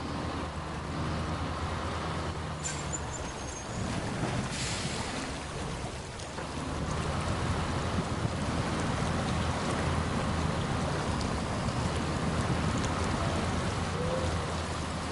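A vehicle engine runs steadily in the Kodiak video game during a hard-mode drive around Island Lake, a continuous low rumble with a broad noisy wash layered over it and no talk.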